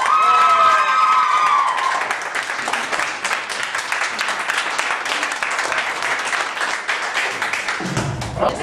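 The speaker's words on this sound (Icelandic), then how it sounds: "nú ætlum við að klappa fyrir það líka" An audience applauds and cheers loudly and continuously at a sports final and awards ceremony, with claps and shouts filling the whole stretch. A voice briefly rises over the crowd near the end.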